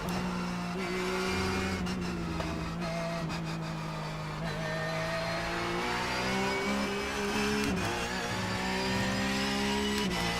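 Porsche 911 Cup race car of about 500 horsepower at Suzuka, its engine droning loud and steady from close by as it accelerates, pitch rising and dipping slightly through gear changes.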